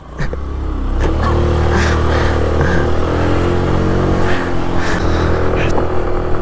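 A modified Hero Honda Pleasure scooter with carburetor trouble climbs an incline, its engine droning steadily and fairly loud with slight clattering while someone speaks over it intermittently.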